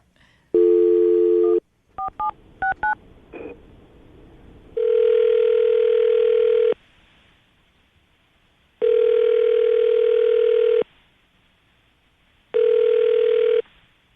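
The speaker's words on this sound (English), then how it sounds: "are you ready to give him a call? See if he answers the phone?" A phone call is placed: a short tone, then a quick run of dialing beeps, followed by three long steady ringback tones separated by pauses, clear and close on the line with no talking.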